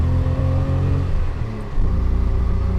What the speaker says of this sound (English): That 3-cylinder acceleration, we're barely moving